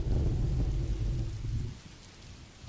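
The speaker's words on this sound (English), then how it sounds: "I could probably turn the royalty-free rain sounds off" A royalty-free rain and thunder effect plays as background ambience: a dense, low rumbling wash of rain and thunder that fades out partway through.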